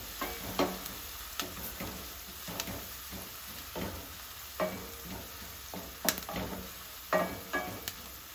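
Half a chopped medium-size onion fries in oil over medium-high heat, hissing and sizzling steadily while a spoon scrapes and stirs the pan in repeated knocks, with no talking.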